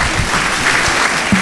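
A church congregation at a Sunday service claps together in loud, continuous applause, a thick even wash of many hands with a few stray louder claps.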